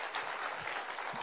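Audience applause fills a staged public event in India as a steady wash of clapping from a crowd, fairly loud and continuous throughout with no voices heard.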